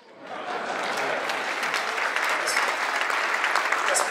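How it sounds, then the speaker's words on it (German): A crowd at a Blankenese New Year's reception breaks into applause that swells in quickly and holds as dense, even clapping. "da kann man nochmal klatschen"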